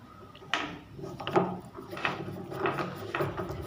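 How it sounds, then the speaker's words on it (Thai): Screws being backed out of the cover plate on a door knob, two screws holding it in place, giving a run of scraping, ratcheting clicks and small knocks at close range with no talking. "ให้ทำการไขสกูออกนะครับ"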